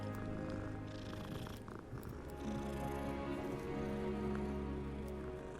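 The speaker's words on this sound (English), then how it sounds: "Oh, and he's purring." A cat in Hogwarts Legacy purrs when petted, a low, steady, rumbling purr that continues softly throughout, with faint game sounds behind it.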